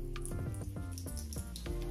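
Tap water runs briefly onto the tip of a makeup sponge at a sink, a soft splashing trickle over a faint steady background.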